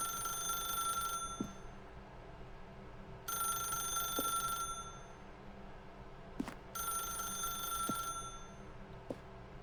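A telephone in The Stanley Parable rings in three separate bursts of electronic trilling with pauses between, fairly quiet over a low ambient hum.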